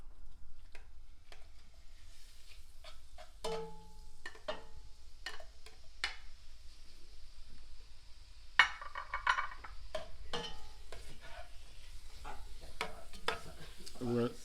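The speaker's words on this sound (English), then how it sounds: "We're going to sear the meat" Meat searing in hot olive oil over medium-high heat, a low sizzle under repeated clinks and scrapes of a utensil against the pan, with one sharper knock midway.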